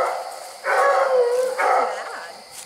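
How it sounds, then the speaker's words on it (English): A coonhound on a night coon hunt lets out two drawn-out, wavering bawling howls, moderately close, with no talking during the calls. "She's probably barking at Diesel now."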